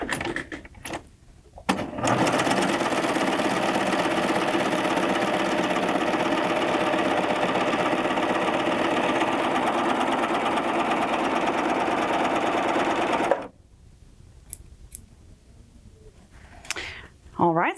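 A Baby Lock Triumph serger runs with all eight threads and five needles, sewing a four-thread overlock and a three-needle chain stitch together: a loud, steady mechanical whir for about eleven seconds, with brief quieter handling before and after.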